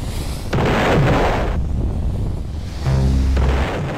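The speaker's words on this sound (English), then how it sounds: "He dropped a bomb." A bomb explosion in the Roblox video game: a loud, broad blast bursting in and rumbling for about a second, followed by another booming burst with a low tonal hum, no talking over it.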